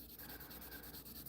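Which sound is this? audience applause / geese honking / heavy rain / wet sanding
wet sanding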